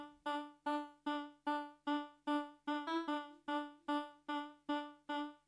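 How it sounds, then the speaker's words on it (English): A synthesized vocal-like tone from a hyperpop track repeats in about thirteen evenly spaced notes, each swelling and fading, with a brief pitch shift near the middle; no talking. "The next element to come into this track is the voice synth that sounds like this."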